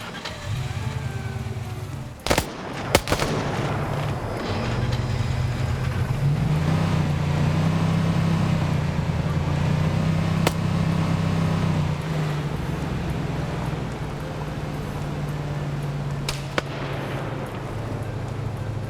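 A 3CB Factions mod vehicle drives in a video game. Its engine hums loudly and continuously for nearly twenty seconds, broken by a few sharp bangs like gunshots.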